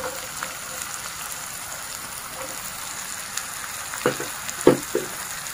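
Diced potato, carrot and green peas sautéing in a pan for veg biryani, giving a continuous rain-like sizzle with a few louder stirring clinks near the end, steady and close.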